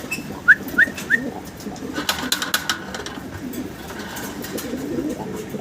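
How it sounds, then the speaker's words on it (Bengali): A pair of yellow fancy pigeons with feathered feet gives three short, close calls in quick succession, followed by softer fluttering and shuffling movement in the background. "ইয়েলো কালারের এক জোড়া পারবিন পারবিন কবুতর দেখাচ্ছি সম্মানিত দর্শক, দেখতে পারতেছেন"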